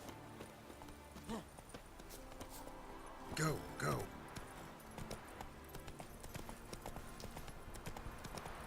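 Horse hooves clip-clop at a steady walking rhythm in The Witcher 3, with a few louder close steps midway, while someone speaks briefly over the game audio.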